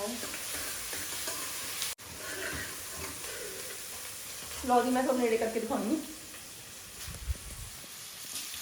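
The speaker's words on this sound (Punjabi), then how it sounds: "ਲੋ ਜੀ ਇਧਰ ਆਪਣਾ ਤੜਕਾ ਹੋ ਰਿਹਾ ਰੈਡੀ ਤੇ ਇਧਰ ਮਟਰ ਬੋਇਲ ਹੋ ਰਹੇ ਨੇ" A tadka tempering frying in a pan for shalgam matar, sizzling and stirred close by with scraping bursts, while someone talks over it.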